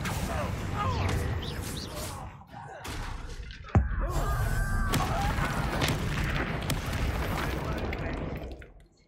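A Confringo blast spell in the video game Hogwarts Legacy, heard as a sharp explosive crack partway through amid dense, continuous game effects and ambience.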